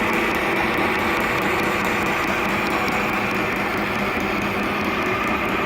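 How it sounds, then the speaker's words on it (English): A metal lathe turns down a UK-59 vz rifle barrel for a Mosin Nagant, giving a steady, continuous whirring and grinding hum close up with no speech. "You gotta love the lathe."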